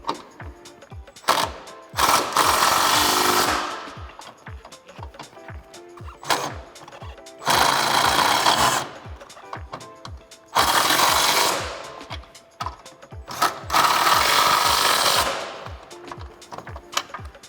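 Impact gun tightening three 13 mm nuts on a coil-over strut of a 2011–2022 Dodge Challenger, heard as three loud sustained hammering bursts of a few seconds each, separated by quieter clicking and handling noise.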